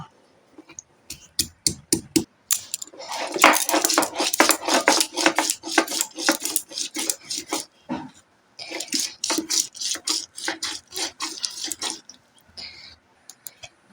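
Ginger pounded and ground on a stone grinding slab in a home kitchen, a run of sharp, irregular scraping and knocking strokes that comes in bursts with brief pauses, close and fairly loud.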